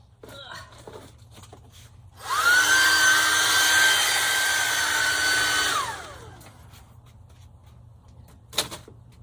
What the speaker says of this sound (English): put the hairdryer to it